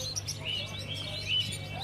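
Faint, thin zebra finch chirps and tweets scattered over a low steady hum at a bird market.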